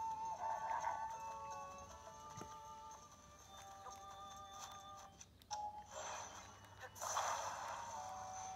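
A horse in The Legend of Zelda: Tears of the Kingdom whinnies and snorts near the start and end, with hoof clip-clops and game effects between, all fairly quiet.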